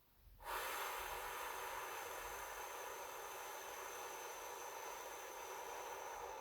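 A long, slow, steady exhale during a guided breathing exercise, a loud, continuous airy hiss close to the microphone that starts abruptly and holds evenly for several seconds with no talking.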